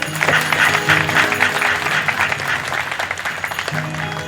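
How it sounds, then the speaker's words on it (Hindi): Loud, sustained applause from a gathered crowd honoring Brahmins at a Hare Krishna devotional gathering, a dense clatter of many hands filling the whole stretch with a low hum of voices beneath. "एक बार समस्त ब्राह्मणों के लिए एक बार जोर से ताली बजाइए।"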